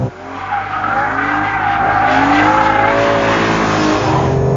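A BMW E46 M3 driven hard on track in sport mode with stability control off, its engine revving loudly with rising and falling pitch while tires squeal and skid through a corner, close and continuous.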